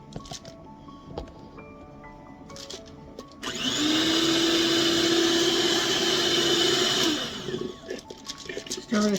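An electric kitchen mixer whirs loudly and steadily as it stirs powdered sugar, a sustained motor hum of a few seconds between quieter stretches of clinks and handling noises.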